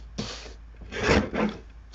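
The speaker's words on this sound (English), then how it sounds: "Let's cut this down. Let's trim it off of here." Paper trimmed with a cutter in an art studio, two or three short scraping rasps of the blade sliding through a sheet, close and clear with no talk.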